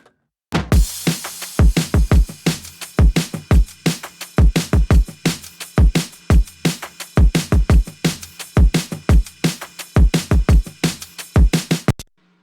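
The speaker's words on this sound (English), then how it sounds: "So the entire drum and percussion section sounds like this." A full pop-rock drum and percussion section plays a driving beat, with punchy kicks, sharp snares and constant bright cymbal and shaker wash, loud and close for about twelve seconds before stopping abruptly.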